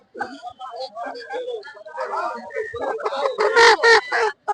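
Broiler chickens cluck and squawk in short bursts close by, mixed with people talking in a lively poultry market setting.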